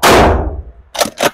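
A Mossberg shotgun fires a mini shell at an outdoor range 25 feet from the target: one loud, close blast opening the clip, its tail fading over half a second, then two short sharp clacks follow.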